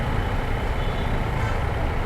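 Heavy evening traffic with trucks on a congested road in Bangalore, a steady, loud, close low rumble of engines that continues without a break and with no talking.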